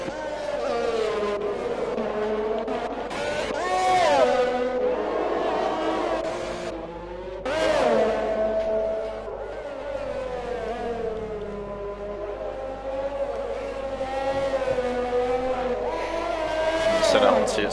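An F1 race car in a Monaco GP video game rises and falls in pitch, its engine whining through gear changes, loud and close, with commentators talking throughout.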